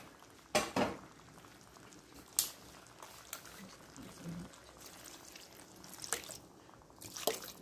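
Pot of lechon paksiw simmering on the stove, a faint bubbling boil beneath sharp clinks of utensils against cookware and brief kitchen clatter.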